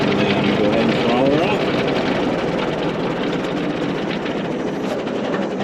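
A centennial Caterpillar tractor engine, revived with a $55 part, winds down after the throttle is pulled back, a steady loud rumbling drone that slowly eases lower, heard close up throughout.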